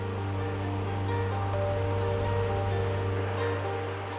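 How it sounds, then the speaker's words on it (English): Ocean waves wash onto a quiet sandy surf beach at Big Wave Beach on Hong Kong Island, a steady broad rush of surf that stays fairly even and moderately loud throughout, with no voices. "a quiet stretch of sand with waves that surfers like to ride"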